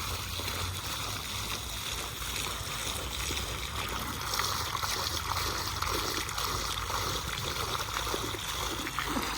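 Water from a motor pump pours steadily onto potted plants at home, a continuous close rushing and trickling flow with no break.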